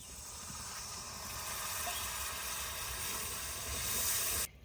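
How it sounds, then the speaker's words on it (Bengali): Water hits spices frying in a wok (ground coriander, red chilli powder, turmeric) for a country chicken curry, a loud steady hiss of sizzling steam that swells slightly before cutting off abruptly, no voices. "মশলার মধ্যে হালকা একটু জল দিয়ে দেবো, নাহলে কড়াইতে লেগে যাবে।"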